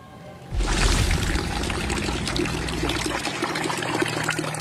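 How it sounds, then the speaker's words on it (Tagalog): Brown, discolored water gushes from a household faucet in a barangay in San Jose del Monte, Bulacan, during a water shortage. A steady, loud pour starts abruptly and runs on evenly, close up and with no talking. "Tila tsokolate ang kulay ng tubig na lumalabas sa gripong ito sa isang barangay sa San Jose del Monte, Bulacan."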